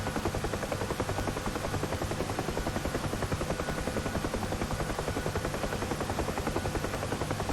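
A UH-1H Huey helicopter approaching to land on a clear runway in ideal weather in a combat flight simulator, its rotor thumping steadily and loudly in a fast, continuous rhythm with a dense engine roar.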